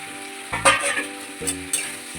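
Hilsa fish heads fry in a pan with a loud crackling sizzle, as several scraping stirs and clanks of a spatula come and go over it.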